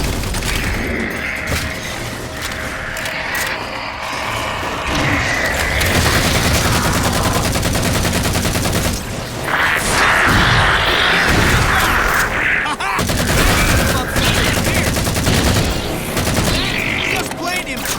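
Sustained rapid gunfire and fusillade bursts in a Halo 4 firefight, loud and continuous with booms and mechanical clatter throughout.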